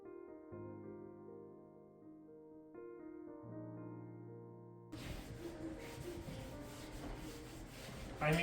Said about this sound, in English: now that we've gotten all of those moldings wiped down